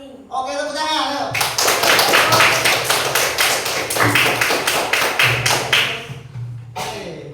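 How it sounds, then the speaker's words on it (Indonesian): A classroom of children clapping hands together in rapid rhythmic bursts for several seconds, loud and close, with voices mixed in at the start and the end. "Oke, tepuk tangan."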